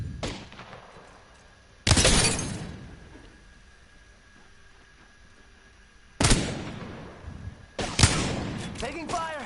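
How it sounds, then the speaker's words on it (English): Video game gunfire comes in loud, sharp bursts with long decaying tails, three separate volleys spread out over steady background ambience. "Taking fire."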